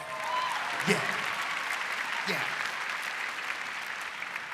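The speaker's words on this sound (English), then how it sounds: "Can I get a round of applause for that?" An audience at a family and student welcome event applauds in a sustained, even burst of clapping heard at moderate distance, with a couple of faint voices calling out.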